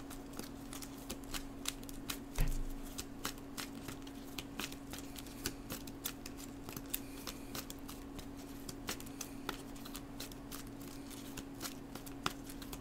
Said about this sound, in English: You have to tell me when to stop shuffling.